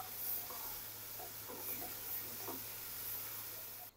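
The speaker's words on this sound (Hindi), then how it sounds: "अब लहसुन अदरक के पेस्ट को भी ऑयल में ब्राउन कर लूँगा" Garlic ginger paste browns in hot oil in a pan, a soft steady sizzle and hiss with faint stirring scrapes, cutting off abruptly at the end.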